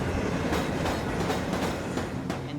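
The Ghan passenger train rolls out of Alice Springs, a steady close rumble of wheels on rail with rhythmic clickety-clack joints beating through the whole stretch.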